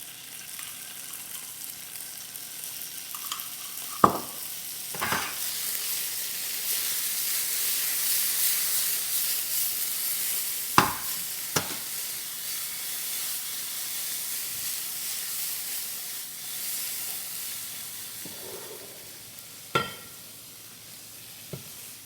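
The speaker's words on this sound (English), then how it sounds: "Toss those around, let those get browned on this side." Gnocchi browning in a hot pan give a steady sizzle and hiss, broken by a few sharp clinks and scrapes as they are tossed. No voices.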